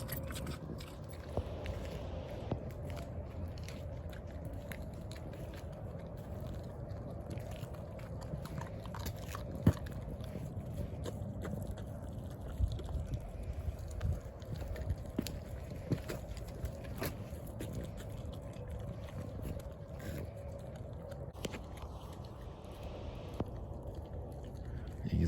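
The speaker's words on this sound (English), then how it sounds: "Let them chew all that sinew and fat and all that stuff up." Dogs gnaw on large cow bones with sinew and fat from a processed cull cow, a quiet, irregular run of wet crunches, clicks and scrapes over a soft background.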